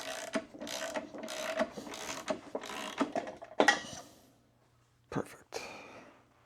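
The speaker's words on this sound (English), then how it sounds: "So we got our case splitter on. We'll begin to split our cases here." A case splitter tool separating the crankcase halves of a Yamaha YFZ 450 engine during a rebuild, a series of close metallic ratcheting clicks and creaks in short bursts, then a pause and a couple of final clunks.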